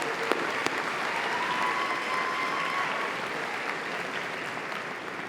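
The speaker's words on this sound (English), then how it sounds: "Give another round of applause" Sustained audience applause fills a hall at the 2022 Halifax Business Awards, a steady dense wash of clapping from a large crowd with a couple of sharper claps near the start and no talking over it.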